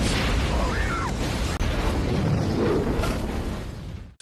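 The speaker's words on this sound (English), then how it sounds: "The next morning, everything explodes." A dense, roaring explosion rumbles without a break, loud and low, then fades at the very end.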